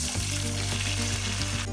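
An egg fries in a pan with a steady, close hiss and sizzle, broken by faint crackles and small stirring clicks.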